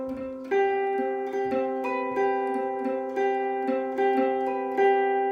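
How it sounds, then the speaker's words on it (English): An electric guitar, played dry without delay, picks a repeating three-note arpeggio with a simple strum pattern, each note ringing clearly and overlapping the next in a steady pulse, with no voices. "We'll just create an arpeggio using those 3 notes and a simple strum pattern."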